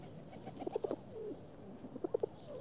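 Pigeons or doves coo softly in two short bursts of rounded, repeated notes, close by and quiet, with no voices present.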